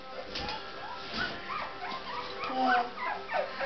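Newborn puppies whimper and yip in a steady, close cluster of thin, wavering cries, with soft squeaks overlapping against a low background rustle and no talking.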